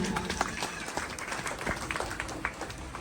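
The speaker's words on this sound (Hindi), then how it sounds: "ताली बजाएं।" Clapping from a village gathering of women at a Bhagavata Katha event in Sakri, Bilaspur; scattered, uneven hand claps, moderately quiet and somewhat sparse, with a busy background.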